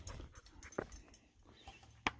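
A dog whimpers and pants on a trail during an Appalachian Trail thru-hike, with faint, brief whines and soft breaths scattered over about two seconds, quiet and close, with one sharper whimper near the end.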